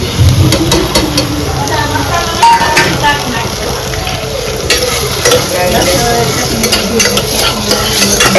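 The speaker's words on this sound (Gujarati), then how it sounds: "થોડીક વાર આપણે કાંદાને ચડવા દઈશું." Onions frying in a pan while being stirred, a loud close sizzle with rapid, repeated scraping and clinking of a spoon against the metal pan throughout.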